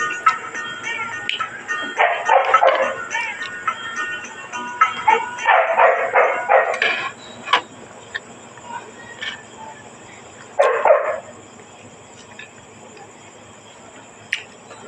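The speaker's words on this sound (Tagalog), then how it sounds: "Kaso lang may baboy, may manok niya, may mga aso na si MJ." Dogs on a small farm with pigs and chickens barking and yipping in several clustered bursts, fairly close, fading to occasional single yelps over a faint background of insects.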